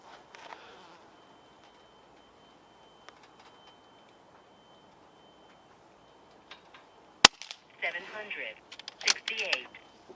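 A compact regulated Umarex Notos .22 PCP micro-carbine air rifle fires one sharp, close crack amid quiet room tone, followed by faint handling clatter and rustling.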